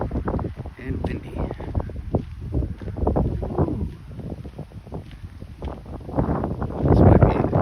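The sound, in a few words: wind blowing on a beach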